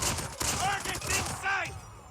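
Rapid gunfire bursts in the mobile shooter game Call of Duty Mobile, dense crackling shots that rise and fall over about two seconds, with faint voice-like sounds mixed in.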